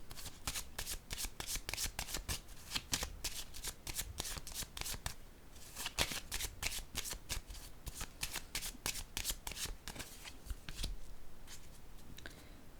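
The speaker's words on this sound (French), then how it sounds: "Je vais piger une autre carte ici." Playing cards drawn and shuffled during a card reading: rapid, close riffling and flicking, crisp and continuous, with slight pauses between runs and no talk.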